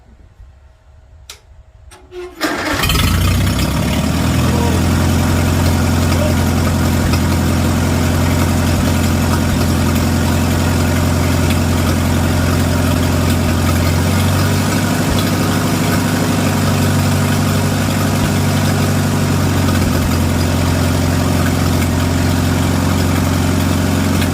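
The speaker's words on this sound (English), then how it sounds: "I'm going to fire it up again." A Farmall tractor engine starts after a few clicks and settles into a steady, loud, close idle with a deep throbbing rumble that runs unbroken to the end.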